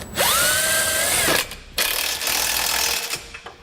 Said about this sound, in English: I'm going to come back with that 18mm socket and snug up all my hardware